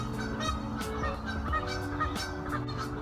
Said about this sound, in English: I guess the geese are trying to help me test the audio quality.